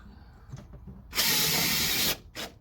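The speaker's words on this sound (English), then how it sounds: "These drilled an 1/8 inch hole just as a pilot hole." Power drill boring a 1/8 inch pilot hole in sheet metal: a loud, harsh, steady whine for about a second, followed by a brief second burst, with faint handling knocks before it.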